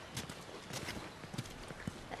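Horse hooves clip-clop in an uneven walking rhythm on a farm, several distinct hoof strikes close by and fairly quiet over a soft background.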